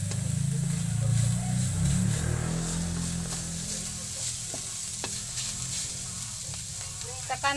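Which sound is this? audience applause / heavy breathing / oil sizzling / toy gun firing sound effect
oil sizzling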